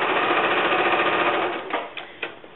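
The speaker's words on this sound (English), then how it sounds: "Line that up and sew on down." A sewing machine stitches quilt strips in a steady rapid whir that stops partway through, followed by a few faint clicks and handling noises.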